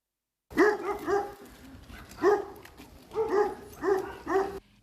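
Dogs bark in loud, close bursts of two or three, separated by short pauses, during a silent workers' protest march.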